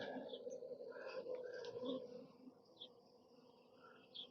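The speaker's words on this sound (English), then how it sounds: "Less and less bees." A swarm of honeybees settled low to the ground buzzes faintly and continuously, with individual bees droning past close by and fading toward the end.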